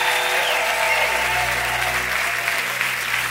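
A church congregation applauds in a dense, steady wave of clapping that fills the room at an even, loud level without pause.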